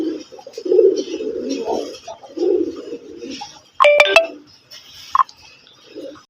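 A pair of red Golla pigeons coo in low warbling phrases close by, joined by a brief sharp electronic beeping burst midway and a short chirp near the end.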